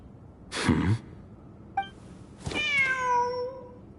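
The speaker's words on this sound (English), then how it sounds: "The cat!" A cat meows in the video game Genshin Impact: a brief breathy sound first, a short chirp, then a drawn-out clear meow with a falling pitch, close and distinct against a quiet background.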